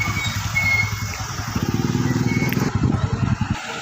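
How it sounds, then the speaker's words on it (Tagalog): A motorcycle engine runs steadily at close range, a low throbbing hum heard while riding around, with a voice speaking over it near the end. "nasa motor na ulit tayo"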